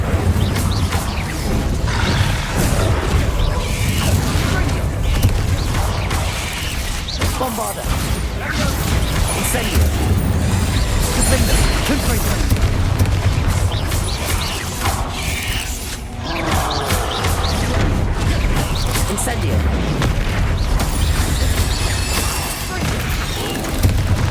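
Bombarda and Confringo spells explode in Hogwarts Legacy amid a loud, busy fight, with repeated booms, crashes and crackling impacts piling on one another throughout, mixed with clanking and creaking effects.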